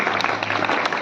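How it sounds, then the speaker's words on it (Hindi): Applause from the crowd at a Guru Ravidas Prakash Utsav gathering welcoming a cabinet minister, a short burst of brisk clapping with a steady electrical hum underneath. "एक बार जोरदार तालियों के साथ इनका स्वागत किया जाए।"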